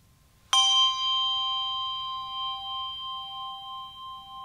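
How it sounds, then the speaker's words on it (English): A single bright bell strike rings out with a sharp attack and long, slowly fading shimmering tones, alone over a low background hum, in a church worship setting. "If you add another bell,"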